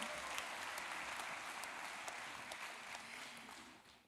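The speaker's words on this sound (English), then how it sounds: "Big round of applause for her." Sustained applause for a graduate at a university graduation ceremony, steady and fairly quiet from a distant audience, holding an even level throughout before tapering slightly at the end.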